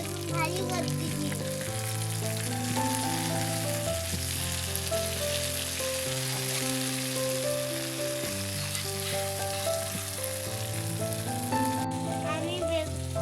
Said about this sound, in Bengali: দেখুন আমরা মাটির চুলায় রান্না করতেছি। বেগুন গাইস, এইগুলা বেগুন, রান্না বেগুন ভাজি করতেছি।